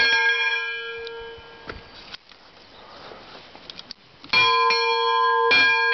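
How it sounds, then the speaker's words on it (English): Locomotive bell on Canfor #113 rung by hand, loud clanging strikes with long ringing tails, a few at the start, a quiet gap with faint shuffling and footsteps, then renewed ringing near the end. "Gonna ring the bell on the 113 once more."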